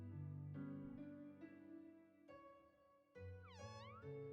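Cartoonish cat meows from the Omori video game, several short calls repeating over a steady layer of game music, with one rising and falling cry near the end.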